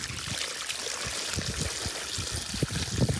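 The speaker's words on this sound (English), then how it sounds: "Chuck another load of water in there." Water is poured and trickles into a mould for a custom concrete post, a soft, steady gurgling stream with small splashes near the end, fairly quiet and close.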